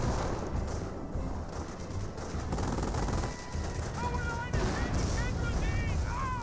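An M2 machine gun fires in Company of Heroes, a dense rolling barrage of gunfire and battle noise under a commentator's continuous talk.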